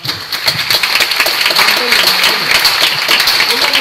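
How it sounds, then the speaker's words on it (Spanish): An audience claps loudly and continuously after a conference talk on agricultural technology, a dense, sustained applause with brief voices mixed in. "Un aplauso."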